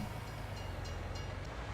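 A train in the farming game Farming Simulator 19 rumbles steadily with a low, continuous rolling drone and faint higher clatter, heard alone at moderate distance with no talk.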